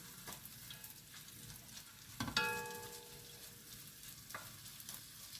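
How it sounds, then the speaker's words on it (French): Onions frying in oil in a pan, a soft steady sizzle heard up close and fairly quiet, broken by a bright metallic clink midway and a couple of light knocks. "Donc je vais faire revenir mes oignons."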